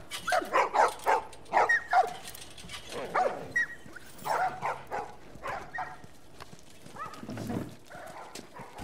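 Dogs bark repeatedly in the video game The Last of Us, a series of close, loud barks over several seconds with some busy background ambience and faint talk mixed in.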